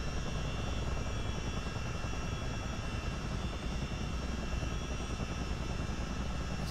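A CH-47D Chinook helicopter's engines during takeoff in a multiplayer flight simulator, a loud, continuous droning whine with a steady rumbling beat, unbroken from start to finish.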